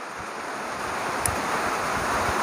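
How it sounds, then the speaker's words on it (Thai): Steady outdoor rain on a coconut plantation, a dense even hiss with a faint low rumble throughout, no voices. "ฝนตกอีกแล้ว"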